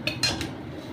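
A metal spoon stirs chili, salt, turmeric, cumin and coriander into oil in a pan over a very low gas flame, giving a few quick clinks and scrapes close by within a second.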